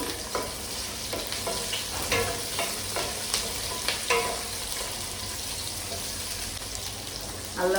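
A wooden spatula stirring food in a coated pan, repeated soft scraping strokes over a faint, steady sizzle, close but fairly quiet with no speech.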